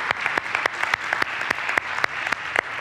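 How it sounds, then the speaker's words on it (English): A church congregation applauds during a Sunday service, a steady wash of many hands clapping with sharper individual claps standing out, filling the space without any talk. "we can give her a round of applause"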